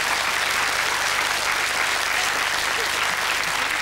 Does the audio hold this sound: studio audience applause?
yes